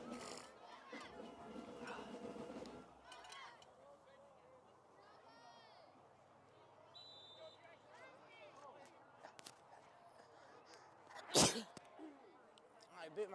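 A single sharp sneeze bursts out near the end amid a football game broadcast, standing out over a background of crowd and speech babble.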